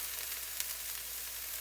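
Bacon frying in a pan gives a quiet, steady sizzle with a faint crackle, heard alone with no voices.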